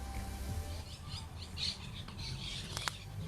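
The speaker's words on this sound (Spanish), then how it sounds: "Me encanta escuchar a los pajaritos" Small birds chirp and squawk in a quiet outdoor natural setting, with scattered high calls over a low rumble of background noise, a sharper call standing out near the end.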